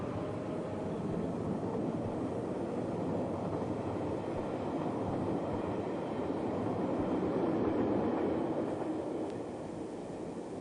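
Narrow gauge trains of the Berner Oberlandbahnen pull away from a Swiss station platform, a steady low rumble and rolling hum that swells slightly midway, faint and distant with no voices.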